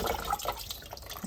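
Water drips and trickles off freshly washed rice in a kitchen, a short, faint run of small splashes and dribbles.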